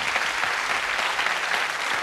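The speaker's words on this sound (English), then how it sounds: "we'll have a nice round of applause for a volunteer" A live audience breaks into steady, dense applause for a volunteer joining a stage performer, many hands clapping together close by with no pauses for the full two seconds.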